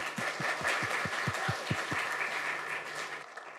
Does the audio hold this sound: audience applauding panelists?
yes